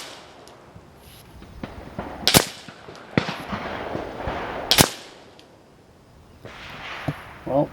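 Two sharp, loud cracks from a Nova Liberty air rifle firing AVS slugs, spaced a couple of seconds apart, with quieter handling clicks and wind noise around them.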